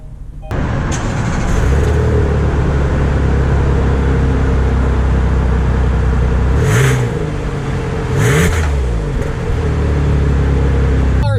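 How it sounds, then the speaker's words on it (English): A 2020 Kia Telluride drives along with a steady, loud road and engine hum from inside the cabin, with a couple of brief whooshing swells in the middle as it moves. "let's take the Telluride out for a drive quickly just to see how it drives and handles."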